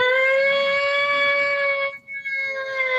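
A loud, steady civil defense siren wails continuously, briefly cutting out for a moment before resuming its sustained tone.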